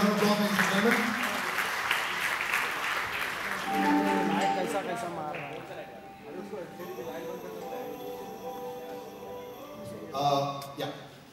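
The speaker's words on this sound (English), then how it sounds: "Big round of applause, ladies and gentlemen." Audience applause at a film song launch event for a cricket biopic, loud and dense at first, then thinning under talk and music before a brief swell near the end.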